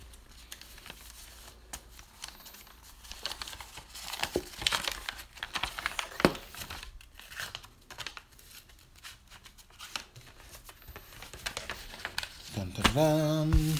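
Big white paper mailing envelope being torn open by hand, with scattered crinkling, rustling and tearing bursts of paper close by, ending in a brief louder crinkle.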